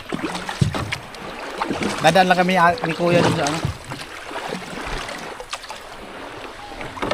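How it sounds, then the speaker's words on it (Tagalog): A bangka, a Filipino outrigger boat, moves across clear sea water near Burias, its steady engine and water noise running throughout beneath people talking close by. "Alright guys, narito kami sa bangka."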